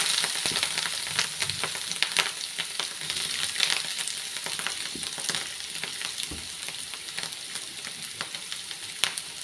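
Bitter gourd fries in a pan for a jackfruit seed stir-fry, a steady close sizzle with crackles and stirring scrapes throughout, no talk.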